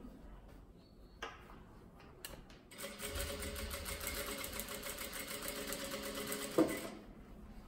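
Sewing machine stitching the lining onto a child's dress, a few faint clicks first, then a steady, fast mechanical whir running for several seconds before stopping.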